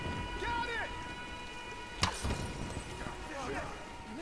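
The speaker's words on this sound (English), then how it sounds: "let's wait out the storm" Steady rain hisses through a storm in Tomb Raider, with one sharp crack of thunder near the middle and a brief rumble after it, all under light talk.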